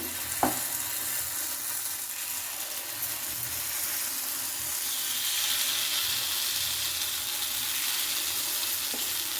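Masala paddu batter is spooned into a hot paddu pan on low heat, giving a steady frying hiss that swells slightly midway, with a couple of faint clinks of the spoon.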